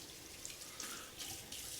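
Water runs from a bathroom tap switched over to cold, a soft, steady, hissing stream with faint splashes, heard alone and close.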